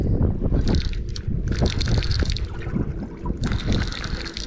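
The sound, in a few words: wind over a lake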